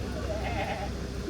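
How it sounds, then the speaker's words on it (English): Nigerian dwarf goats bleat in a group on a safari ride, a couple of wavering calls rising above the steady rumble of a moving vehicle. "Goats are really social."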